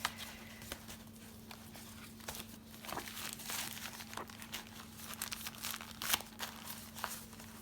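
Small paper bits for a junk journal being handled and crinkled, a steady close rustle with sharper crackles and soft taps throughout, no voice.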